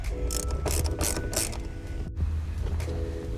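A hand ratchet loosens bolts on a 9th-generation Honda Civic Si shifter assembly, giving loud, close, rapid clicking bursts in several quick runs with a brief pause midway.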